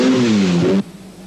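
Rod Millen's Mazda RX-7 rally car on a 1981 RAC Rally forest stage, its engine revving loud and close with falling pitch as it passes, then cutting abruptly to quiet.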